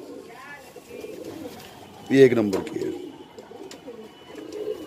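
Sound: pigeons cooing

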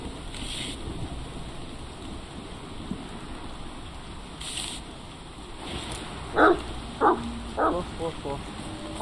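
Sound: dog barking

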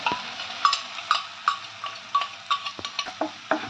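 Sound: stirring ginger paste frying in pan

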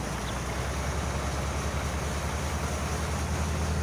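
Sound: running water ambience in Farming Simulator 19 video game

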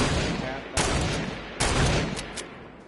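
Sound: gunfire in the video game Fortnite

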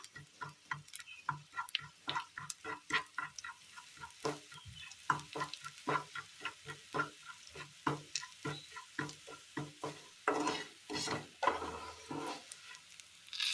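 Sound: chili and turmeric powder frying in a pan

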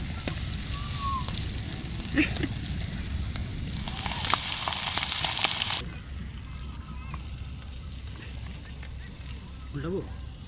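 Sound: fish frying in oil

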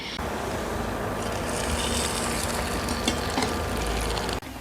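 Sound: moong dal bhalle frying in hot oil

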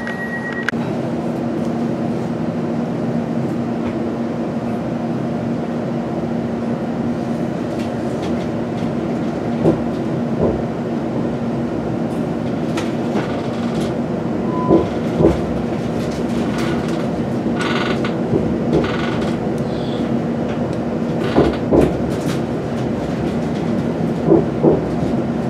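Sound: London train running on rails

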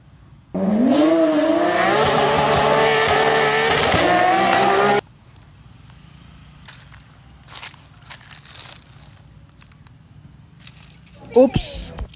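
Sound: toy blue car racing sound effect

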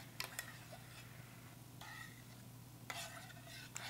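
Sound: stirring tomato paste into a pot

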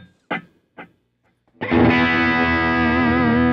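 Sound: electric guitar through DL4 delay effects pedal

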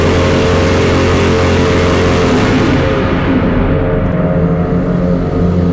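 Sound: Lamborghini Aventador Gintani engine revving in a tunnel

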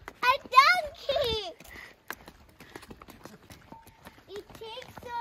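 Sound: donkey hooves clip-clopping while being ridden

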